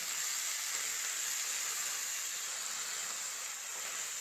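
A potato curry with turmeric, salt and tomatoes, tempered with nigella seeds, fries in a pan, producing a constant soft hiss that stays even and fairly quiet throughout, with no voices.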